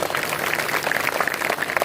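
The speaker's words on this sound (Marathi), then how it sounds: "टाळी वाजवा बाबांसाठी" Audience applause at a Marathi kirtan honoring a maharaj during an Akhand Harinam Saptah, a steady dense patter of many hands clapping throughout without pause.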